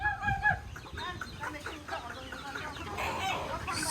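Village hens and chicks cluck and cheep close by while scattered rice is pecked up at feeding time, with soft background noise.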